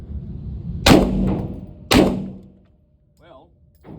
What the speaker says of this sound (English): look at that guy shooting fast